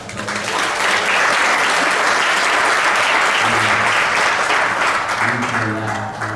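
A Baptist church congregation gives a steady round of loud hand-clap applause during a Sunday service, sustained for several seconds, with a voice speaking faintly beneath the clapping.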